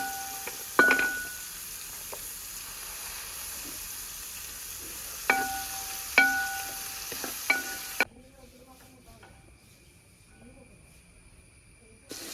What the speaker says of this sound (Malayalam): നമുക്ക് ഉള്ളി ഇട്ട് കേട്ടോ ഒരു മുന്നൂറ്റമ്പത് ഗ്രാം ഉള്ളി ഇട്ടാ